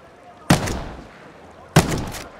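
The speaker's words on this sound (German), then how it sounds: "da sind die Schüsse nämlich gerade ins Wasser eingeschlagen" Two sharp, booming gunshots about a second apart, each with a noisy splash-like tail as the shots hit water, from the video game Ghost Recon Breakpoint.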